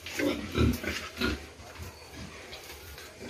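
Pigs being raised on a small backyard farm grunt in several low, rough bursts close by, loudest in the first second and a half before settling into quieter snuffling.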